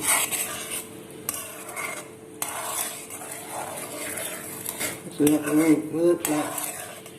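Sugar syrup being stirred in a metal pan for sukiyan, with repeated clinks and scrapes of a utensil against the pan at an irregular rhythm, close and fairly loud.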